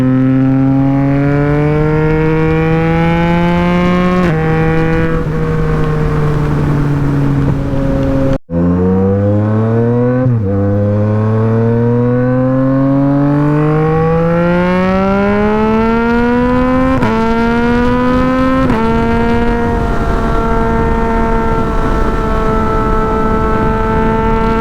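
A Yamaha MT-09 motorcycle is ridden, its engine loud and close throughout, rising in pitch through the gears with brief dips at each shift. No voices are heard.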